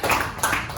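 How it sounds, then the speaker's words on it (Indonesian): Classroom applause in a vocational high school (SMK) Indonesian-language lesson: a short, dense burst of clapping from students, fairly close, with a second swell midway, no talk over it. "Bagus sekali, tepuk tangan untuk Randi."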